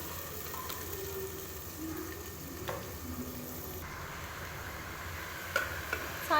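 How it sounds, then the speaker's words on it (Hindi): Cauliflower (gobhi) tossed into cooked masala in a pan, giving a soft steady sizzle with light scraping stirs and a few sharp clinks of the spoon near the end. "अब मैं लास्ट में इसके अंदर ऐड कर रही हूँ ये गोभी"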